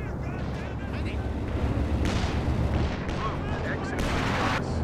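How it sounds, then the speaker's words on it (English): Howitzer artillery fire in a Company of Heroes 2 4v4 battle: heavy booming blasts and crackling gunfire rumble continuously at loud volume, with a voice talking over the combat. "Some artillery came down. Got a howitzer fire now as well."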